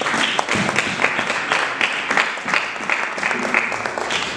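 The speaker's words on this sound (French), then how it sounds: "Ces acclamations ne suffisent pas" A church congregation at a worship service claps loudly and steadily, with individual claps standing out in a fast rhythm and voices cheering underneath throughout.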